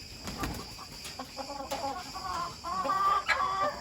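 Chickens cluck nearby in short, irregular bursts, with a young rooster's higher, strained calls standing out toward the end.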